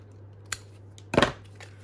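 Scissors snip through fibre thread: one quick light click, then a sharper, louder cut a moment later, close and alone in a quiet room.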